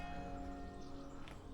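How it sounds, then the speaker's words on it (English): Church bells ring faintly in a hillside setting in Abruzzo, Italy, a soft sustained chime that hangs steadily in the background for the whole short moment. "Church bells."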